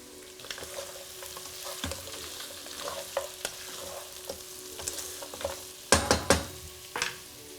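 Onions and goat meat frying with fresh thyme and Maggi cube in a pot, a low, quiet sizzle under scattered stirring clinks and scrapes, with a cluster of sharper spoon knocks near the end.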